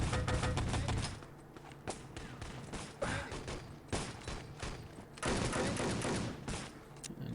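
Rifle fire crackles through a close video game firefight, with dense volleys of sharp shots, brief pauses, then another loud sustained burst near the end.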